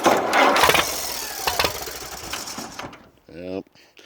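A tractor engine cranks and starts: a loud, steady mechanical churning runs for about three seconds, then cuts out, followed by a short rough sputter and a voice speaking.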